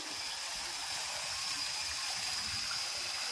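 Water flows steadily at the mini Kedarnath temple, a constant soft rushing hiss with no talk over it.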